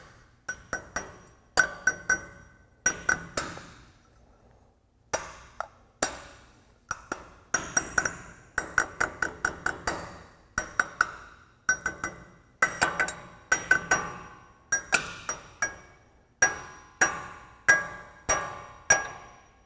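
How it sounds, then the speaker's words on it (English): Dozens of sharp metallic taps from a hammer seating a metal cover during a Tundra suspension lift kit install, arriving in quick bursts and steady runs, each with a bright ringing edge, close by with no talking. "we'll just tap around it with a hammer to seat it in place"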